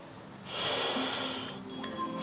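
Slow, deep breathing in a yoga downward dog pose, a single long airy breath swelling and fading, close and fairly quiet, with no talking.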